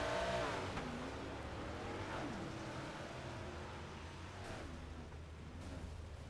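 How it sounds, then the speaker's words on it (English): Race cars in the iRacing video game driving past in a steady stream, engine whines rising and falling as each car approaches and passes, fairly quiet and continuous. "Then you hear the cars, they keep on coming."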